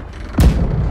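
A ship's cannon fires in the Blackwake naval video game, one sudden loud deep boom that rumbles on for a moment afterward.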